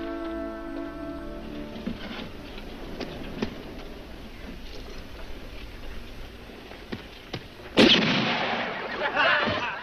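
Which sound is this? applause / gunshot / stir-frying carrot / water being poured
gunshot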